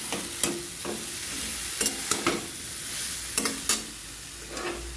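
Vegetables sautéing in a pan, a steady low sizzle under repeated scraping strokes of a spatula, with sharp clinks of metal on metal at irregular intervals, close and moderately quiet.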